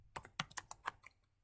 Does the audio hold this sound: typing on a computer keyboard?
yes